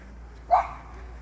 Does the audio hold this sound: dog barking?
yes